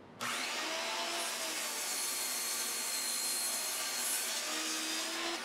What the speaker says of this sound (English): Next stop was over at the miter saw to cut some of these pieces to length.